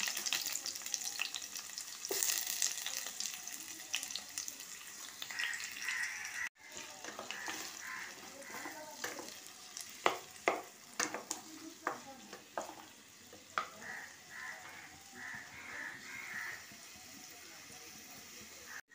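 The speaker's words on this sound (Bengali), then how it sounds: "ঘিটা গরম হয়ে গেছে, এবার আমি 2টো পেঁয়াজ তুলে দিলাম।" Two onions frying in hot ghee in a pan for a chicken kanti, with a constant close sizzle, a sharp break partway through, then crackles and stirring clatter over the frying.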